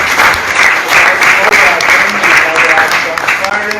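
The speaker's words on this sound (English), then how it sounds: "give them the same hand of applause" Applause from an audience at a ceremony where a technical college's old students donated computers, loud and sustained dense clapping throughout, with some voices mixed in.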